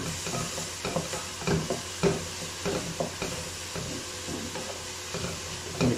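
Mixed vegetables fry in a pan with a sprinkle of black pepper, giving a steady close sizzle broken by frequent scraping stir strokes, with no talking.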